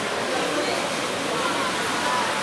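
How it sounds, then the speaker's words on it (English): A heavy rain shower hisses steadily in a dense, close wash of falling water in an outdoor street setting, with no clear talking. "The rain is back."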